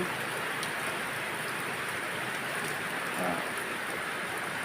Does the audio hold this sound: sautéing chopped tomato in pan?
no